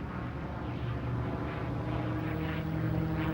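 A propeller-driven P-51 Mustang fighter drones steadily throughout, a loud continuous engine and airscrew roar with no voices.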